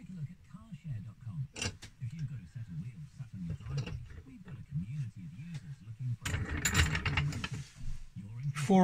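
An acrylic Art Deco pen is put together in a handmade pen vise, giving quiet mechanical clicks and ratchet-like turning sounds under a person talking.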